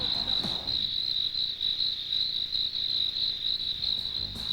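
Crickets chirp loudly and steadily near the microphone over a nearly empty baseball stadium, with a faint low murmur of a sparse crowd and a couple of soft knocks underneath.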